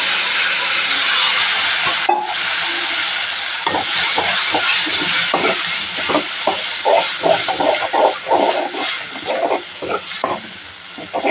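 A pan of curry with tomato, chili powder and sambar powder bubbles and sizzles in oil close up, with a steady hiss and irregular pops and stirring clicks growing more frequent toward the end.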